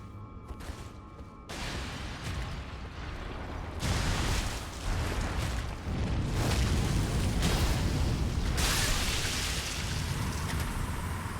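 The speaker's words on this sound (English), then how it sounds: "the bleed explosion" Bleed explosion effect in the video game Elden Ring: a loud, dense series of bursting, roaring blasts rolling together over several seconds, with heavy rumble and crackling debris.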